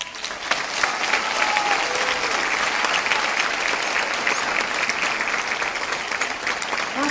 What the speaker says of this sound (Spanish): Más fuerte que se escuche este aplauso